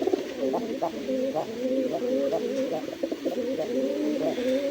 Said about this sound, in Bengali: মানে ঘুম ঘুম ঘুম ঘুম করে ডাকে, দেখছেন ডাকের স্টাইল ডাকে